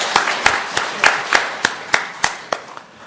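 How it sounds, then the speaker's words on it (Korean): A church congregation claps in praise, a steady unison rhythm of about ten sharp, evenly spaced claps over three seconds, with no talking over it. "하나님께 영광의 박수를 보내겠습니다"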